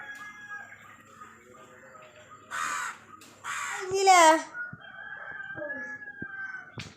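Chickens cackle and squawk in loud bursts nearby, with a rooster-like crow in the middle and talk in between.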